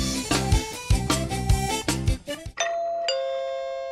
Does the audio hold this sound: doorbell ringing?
yes